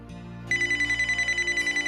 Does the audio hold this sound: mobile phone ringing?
yes